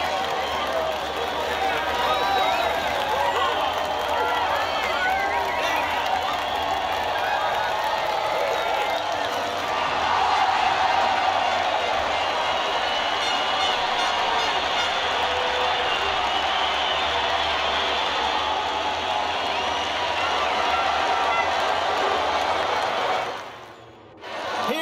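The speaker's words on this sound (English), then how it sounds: "Stars of the day enjoying a round of applause from the team and fans." A large crowd of team members and fans cheers and applauds steadily for about twenty seconds at a MotoGP race in the MotoGP 21 video game, Circuit de Barcelona-Catalunya, with raised voices and whoops mixed in, before the noise cuts off abruptly.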